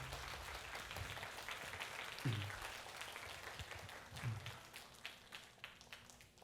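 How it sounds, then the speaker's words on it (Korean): Congregation applause during a Sunday church service, a steady wash of many hands clapping at moderate level throughout, with a couple of low thumps partway through. "박수 한번 보내드리겠습니다."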